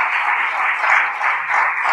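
Applause from an audience at the founding general meeting of a policy forum, steady dense clapping filling the whole stretch at moderate loudness, no voices over it.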